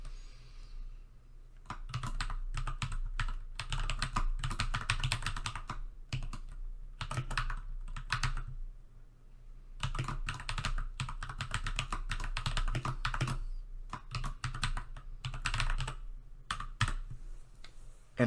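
Continuous typing on a computer keyboard whose X key double-types, bursts of rapid key clatter with brief pauses, close and steady over a low background hum, no voices.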